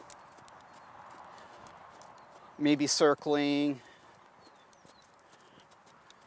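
Horse hooves shifting on ground near a mounting block, faint scattered clops throughout, with a brief stretch of a person talking in the middle.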